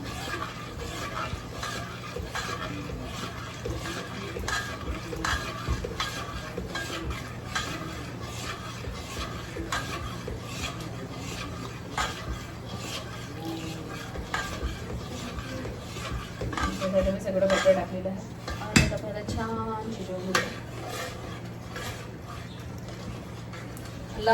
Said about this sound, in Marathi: असं सतत सतत घोटायचं राहायचं याला